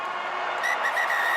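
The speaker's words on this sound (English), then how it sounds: "the referee blows the whistle" A referee's whistle at a rugby match between the All Blacks and Italy, a shrill tone rising out of steady stadium crowd noise midway through, heard amid the ambient roar.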